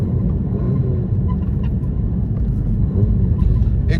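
VW MK7 GTI with a new XClutch Stage 2 clutch cruising slowly in fifth gear, steady low engine and road rumble heard from inside the cabin.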